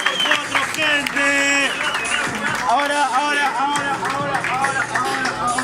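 A crowd at a freestyle rap battle applauds and cheers under loud overlapping voices, with clapping mixed into the babble throughout.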